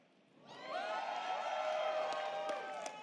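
Crowd of fans at a live event cheering and whooping loudly for a character named Rainer, rising from quiet to a sustained roar with scattered shouts over three seconds.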